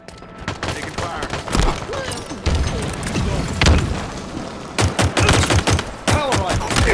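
Halo Infinite gunfire: rapid bursts of shots and heavy booms in dense, irregular volleys, loud and close, with voices in the background.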